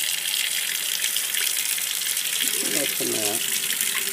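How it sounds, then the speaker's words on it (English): Tap water runs into a pot for making Elliott Family Farms thick rolled oatmeal, a steady close hiss of flowing water with a brief clink and a short spoken remark near the end. "We're going to run a little water in here"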